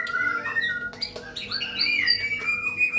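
A white-rumped shama (murai batu) sings a varied run of bright whistles, chirps and trills, close and continuous over faint background noise.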